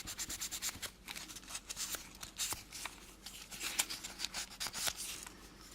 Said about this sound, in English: And a little fine sandpaper here.